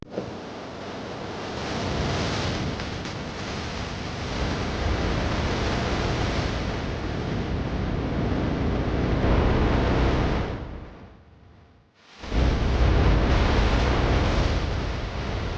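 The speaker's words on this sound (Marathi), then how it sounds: "आणि हा आहे एकीव धबधबा खूप छान वातावरण आहे" Constant roaring rush of Ekiv waterfall near Satara, foaming water, loud and broadband, with a brief dip near the end before the heavy torrent returns.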